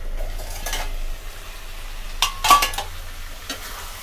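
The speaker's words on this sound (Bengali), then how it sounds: "আমরা ঢাকাটা খুলে একবার দেখে নেব।" A lid comes off a pan of frying cabbage and potato, giving a couple of sharp metallic clinks and a scrape against a low steady sizzle, with a few lighter taps before and after.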